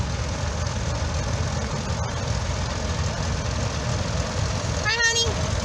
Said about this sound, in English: This is a 1942 Case SC.